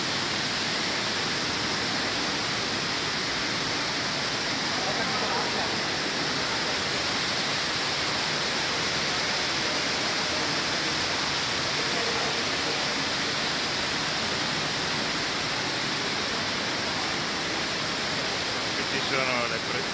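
An indoor waterfall inside the Guinness Storehouse brewery produces a steady, dense rush of falling water that fills the space evenly for the whole stretch.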